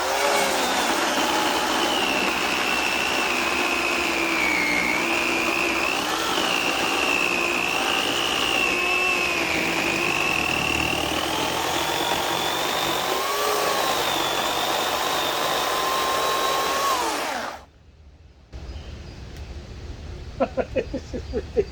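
A WORX 16-inch electric chainsaw cuts through a log with a loud, close, steady high whine whose pitch dips and wavers as the chain bites, then stops abruptly, leaving a quieter stretch with small knocks.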